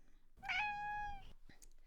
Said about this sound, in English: our darling cat has once again decided that she needs to be the center of attention